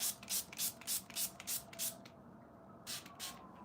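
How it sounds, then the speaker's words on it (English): Cheap makeup setting spray is pumped onto a face in a quick series of about a dozen short, hissing mists, evenly spaced at first, then pausing briefly before a few final sprays, close and fairly quiet. "so now I'm gonna spray my face so that it stays like this and that the eyes stay like this"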